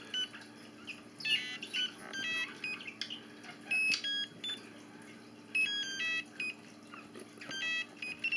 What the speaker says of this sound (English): And you can adjust your alarm tone.